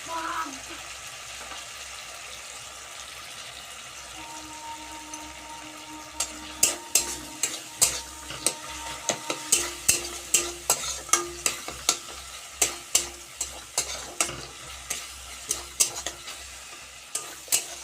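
A spoon scrapes and stirs a pan of sizzling curry spices with salt and turmeric. Steady frying sizzle sits under a run of sharp, rhythmic scraping knocks that grow louder in the second half.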